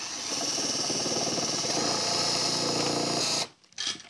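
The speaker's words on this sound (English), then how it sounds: "So if you want me to drill right on the edge there?" A power drill runs continuously at high speed for about three seconds as it bores through a surface, loud and close, then stops abruptly with a brief burst of noise after.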